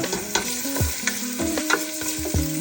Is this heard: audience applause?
no